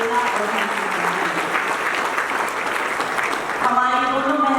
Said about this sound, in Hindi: उनके हौसले के लिए एक बार जोरदार तालियां बहन चेतना और बहन सुमन।